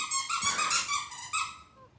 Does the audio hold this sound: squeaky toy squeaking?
yes